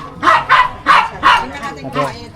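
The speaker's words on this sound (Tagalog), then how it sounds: "Pasensya na po kahit at may ingay po ng konti ang aso." A dog barks and yips in a rapid series of about five loud, close calls in a home, some with whining edges.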